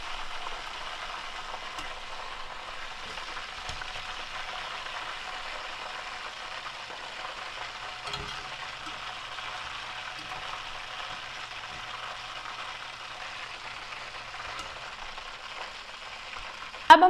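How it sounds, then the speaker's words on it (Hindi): Chicken pieces fry in a pan until browned for a chili chicken dish, producing a steady, even sizzle of hot oil that continues without a break and without speech. "अब हमारा चिकन फ्राई हो गया है"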